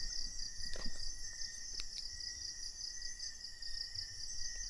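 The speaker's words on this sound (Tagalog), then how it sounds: "Ang daming insekto dito. Daming insekto." Crickets and other insects chirp at night in a steady, high, continuous trill, with a few brief clicks and no talking.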